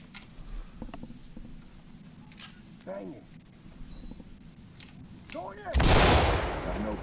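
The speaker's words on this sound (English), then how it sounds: "Kör en flashbang." A flashbang grenade bursts in a tactical police video game with a loud, bright broadband blast, following quieter gameplay noise and spoken commands.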